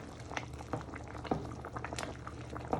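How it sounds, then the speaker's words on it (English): A pot of chicken and chorizo ragu is stirred, quiet bubbling and simmering broken by soft spoon knocks and scrapes against the pot. "you just want to give that all of a good stir for a few minutes"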